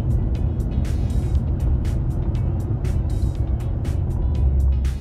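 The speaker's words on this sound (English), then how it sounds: "As far as road noise, I don't hear too much of a difference." Road noise inside a moving Toyota Tacoma fitted with Black Rhino Arsenal wheels: a constant low rumble and hum, with light clicks and ticks scattered over the top.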